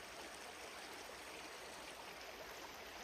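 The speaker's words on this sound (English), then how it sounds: "So this is where the water is running down from," A small stream of water runs down over little rocky steps on a countryside walk in Lancashire, making a steady, even rush and trickle that holds for the whole stretch with no voices.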